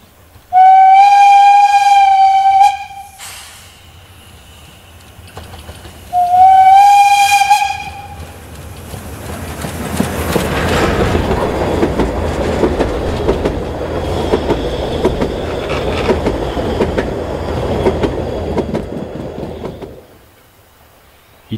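Narrow-gauge steam train on a small railway running past tended gardens just beyond a station, giving two loud, sustained whistle blasts before the engine and carriages rumble past steadily for about ten seconds, then fading out.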